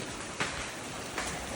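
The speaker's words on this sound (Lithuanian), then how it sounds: "kur nuo lietaus pasislėpti?" Rain falls outdoors during an airsoft game, a steady broadband hiss of drops with a couple of slightly louder splashes and no voices.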